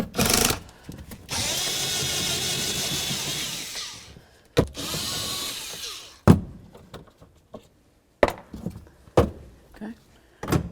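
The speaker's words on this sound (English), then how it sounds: "we're going to remove these two 10mm headed bolts" A power tool whirs in two loud bursts as it removes two 10mm-headed bolts during rear strut replacement on a 2003-08 Toyota Matrix, followed by scattered metallic clunks and knocks.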